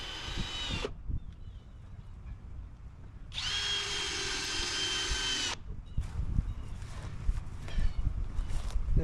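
A power drill drives screws into porch boards on a she shed build, in two loud whirring bursts, one short and one longer, separated by quiet handling knocks.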